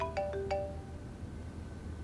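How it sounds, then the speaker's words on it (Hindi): A phone ringtone plays a short melodic burst of a few tones near the start, then stops, leaving a low room hum. "भाईजान का फोन आ रहा है।"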